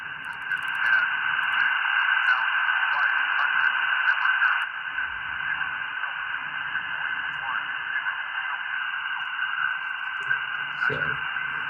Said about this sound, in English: that is a weather station near a small local airport